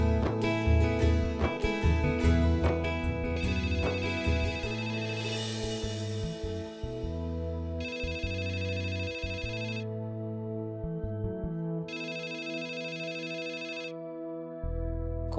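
A telephone rings on and off in repeated bursts with gaps between them, goes unanswered, and sits amid dramatic music.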